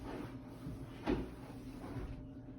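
A cupboard door opened and closed while a room is dusted: one soft knock near the middle, with fainter handling noises around it against a steady low background hum.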